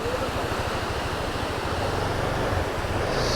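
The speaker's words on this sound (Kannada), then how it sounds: "ನೀರು ಹರಿತಾ ಇದೆ ಇಲ್ಲಿ." Water running steadily at a small roadside waterfall a little beyond Sakaleshwara on a bike route, a continuous broadband rush close to the mic with some wind buffeting.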